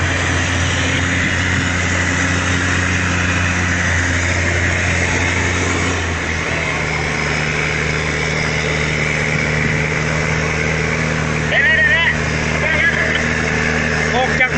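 Slow boat engine on the Mekong in northern Laos, a steady low droning hum running throughout with the pitch dropping partway through, while people talk over it.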